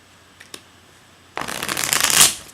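Tarot cards being riffled and shuffled by hand during a reading: a couple of soft taps, then a dense, rising burst of crisp card flutter that builds to a loud peak before stopping, with no voices.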